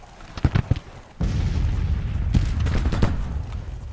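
Infantry in Grand Tactician: The Civil War fire a volley during a battle in Kentucky. A few sharp separate reports come first, then a loud, rolling crash of massed musketry that crackles on with scattered shots to the end.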